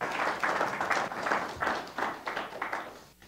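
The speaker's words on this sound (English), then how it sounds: "can we all get a round of applause for Miss Jen for putting that together?" A church congregation gives Miss Jen a round of applause, steady clapping from a modest crowd lasting about three seconds before fading out.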